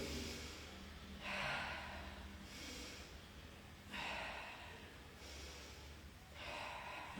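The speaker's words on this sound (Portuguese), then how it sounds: "o jeito errado de respirar seria aqui, ó, essa respiração muito na barriga e no peito." A woman demonstrates incorrect breathing into the belly and chest, taking three audible, forceful breaths through the nose spaced evenly apart, each a short rushing inhale followed by quieter pauses, close and alone.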